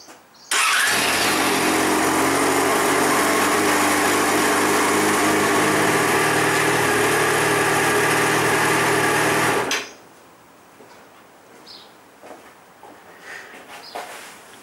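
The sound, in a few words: Yamaha XJ6 Diversion F motorcycle engine starting and idling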